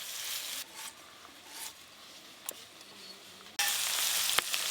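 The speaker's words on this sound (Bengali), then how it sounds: "আদা রসুন বাটা দিয়ে পেঁয়াজ কুচি একসঙ্গে ভালো করে ভেজে নেব" Chopped onion and ginger-garlic paste fry together in a pan, a soft, quiet sizzle with faint scraping that swells noticeably louder near the end.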